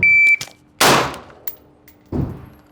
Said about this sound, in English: I'll show you guys the shot timer